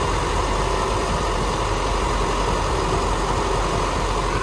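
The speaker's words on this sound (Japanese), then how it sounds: "じゃあね、エンジン音です。" A 2010 Nissan Vanette refrigerated truck idles smoothly and steadily, a close, continuous low engine hum with a constant mechanical drone and no voices.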